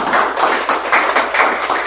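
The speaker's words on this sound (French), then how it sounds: "On applaudit." An audience at the official launch of a national association of Haitian jurists breaks into brisk, dense applause, loud and close, lasting about two seconds.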